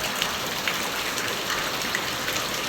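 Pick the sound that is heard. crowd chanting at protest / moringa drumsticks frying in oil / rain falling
rain falling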